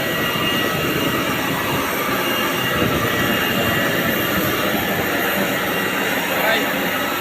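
An airplane's jet engines roar in a steady, broad wash of noise, constant and close, with a voice faintly heard under it.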